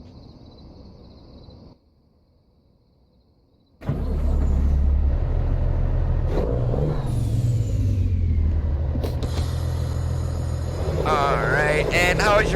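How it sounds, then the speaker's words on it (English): A Cummins N14 diesel truck engine in American Truck Simulator cranks to life after a brief quiet gap, then settles into a loud, steady low rumble while cruising, with shifting tones and a rising whine near the end. "underneath the hood today we have a come apart N14. Let's climb in, get it fired up,"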